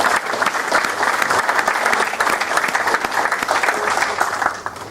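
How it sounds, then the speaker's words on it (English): Audience at a business association annual general meeting claps loudly and continuously in a hall, a dense, steady round of applause with no one speaking over it. "A big round of applause for Rotary, ladies and gentlemen."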